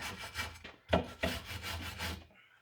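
Short, rough scraping strokes as rust is scrubbed off a bolt on an engine exhaust, several quick rasping passes close up over about two seconds, with no voices.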